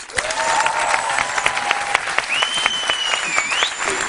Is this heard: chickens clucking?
no